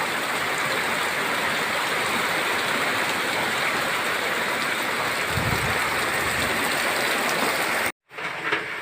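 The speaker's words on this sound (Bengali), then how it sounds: "প্রচুর বৃষ্টি।" Torrential storm rain pours in a loud, unbroken wash close by, with a low rumble partway through, then cuts off abruptly near the end before resuming more faintly.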